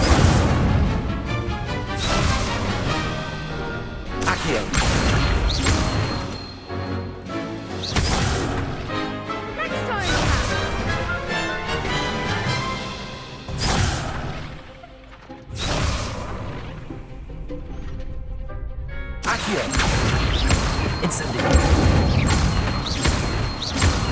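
Spell effects from the Hogwarts Legacy video game, with an Incendio fire spell among them: loud bursts and crashes one after another across the whole stretch, layered over a dense game score, with short lulls between clusters.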